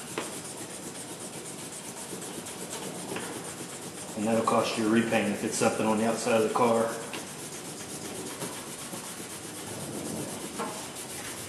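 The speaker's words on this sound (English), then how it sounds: "they're color sanding their clear to get it flat" Steady abrasive rubbing of color sanding a clear coat, continuing throughout while someone talks over it.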